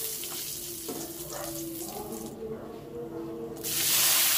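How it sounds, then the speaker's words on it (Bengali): Panch phoron, dried red chillies and bay leaves frying in hot oil, with a soft sputtering hiss that swells to a loud, steady sizzle near the end. "এবার ফোড়নটাকে খুব সুন্দর করে ভেজে নেব।"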